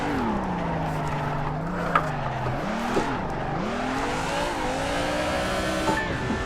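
Engine revving and wavering in pitch as a car drifts under throttle in the Assetto Corsa racing game, with a steady loud drone, faint tire squeal and no talking.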